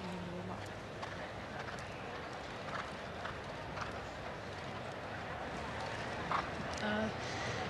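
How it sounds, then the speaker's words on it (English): Muffled hoofbeats of a jumping horse during 1992 Summer Olympics showjumping, over a steady wash of outdoor noise, with voices faintly audible in the background. "horse is jumping"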